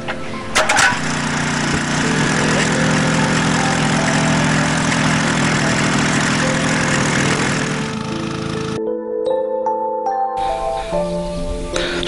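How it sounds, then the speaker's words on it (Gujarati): A diesel engine drives a farm pond water pump feeding a drip irrigation system, running in a loud, steady drone for about eight seconds before cutting out abruptly into quieter scattered sounds. "ડીઝલ મશીન દ્વારા ચલાવી તેમાં ટપક પદ્ધતિનો ઉપયોગ કરેલ છે"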